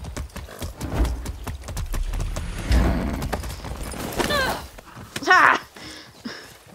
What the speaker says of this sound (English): By horse.